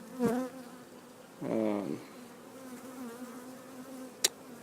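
Honeybees buzz around a hive built into floor joists, a steady close hum running through the clip with louder swells near the start and in the middle, and a sharp click near the end.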